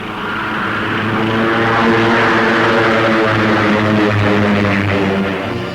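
Navy training planes taking off together in battle formation, a loud propeller-engine drone that swells and holds steady at close range, with a rough low throb running through it.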